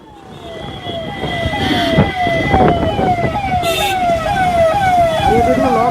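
A car-mounted siren wails loudly in repeated rising and falling sweeps, starting faint and swelling close, with traffic noise underneath and no clear talk.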